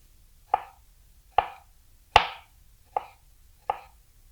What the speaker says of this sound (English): The other thing we might do, if you want to be fancy about this, is make some really thin slices.